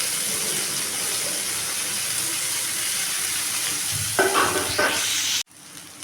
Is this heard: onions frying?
yes